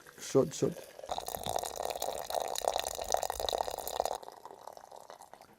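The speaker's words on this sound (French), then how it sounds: "Nous allons mettre ça dans un petit récipient là pour verser là-dessus de l'eau" Hot water poured from a container over herbs in a small vessel to make tea, a close steady trickling and splashing that stops abruptly, with a person talking over the start.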